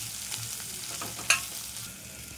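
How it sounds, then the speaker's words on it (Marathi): Pumpkin pieces stir-fried in oil give a soft, steady sizzle with faint scraping stirs, and one brief sharper clatter partway through, all fairly quiet and close. "चांगल्या अशा तेलावरती परतून घ्यायच्या आहेत आपण भोपळ्याच्या फोडी।"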